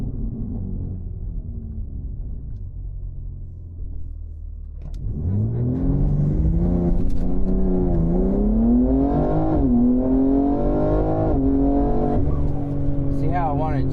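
A car with a custom-tuned GM G80 transmission pulls away and accelerates, its engine note rising steadily then dropping and climbing again as it shifts up into second, loud and continuous with a voice talking over it.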